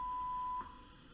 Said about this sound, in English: 500 hertz at 0 decibels.